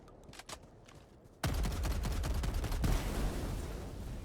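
Breaker shotgun blasts against an Exo-45 Patriot mech in Helldivers 2, a few scattered shots and then a dense, rapid run of loud booming fire that keeps going without pause.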